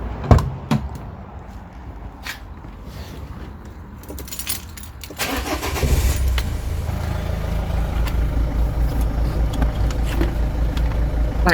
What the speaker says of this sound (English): Sorry about the noise, but diesel van and all.